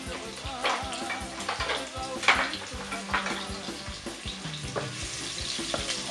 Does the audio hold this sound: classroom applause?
no